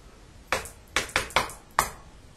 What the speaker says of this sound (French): Je vais taper dans le mur comme la fois dernière.